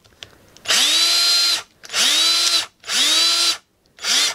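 A Ridgid cordless battery hammer drill runs in four spaced bursts, each spinning up quickly to a loud, steady whine, holding for about a second, then cutting off into near silence, close to the listener.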